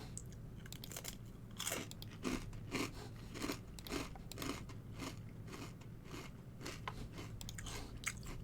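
Close, steady chewing of crunchy Crunch 'n Munch caramel popcorn snack, repeated crisp bites and crunches in a loose rhythm over a low background hum, no talk.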